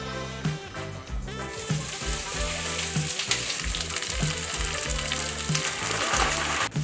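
Beef brisket sears loudly on a hot griddle for suadero tacos, a continuous dense sizzle with spatula scrapes and shifting bursts as the meat is pushed across the surface.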